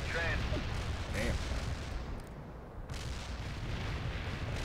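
Artillery and bomb strikes in the video game World in Conflict rumble as deep, distant booms under a low background, with a brief muffled voice near the start.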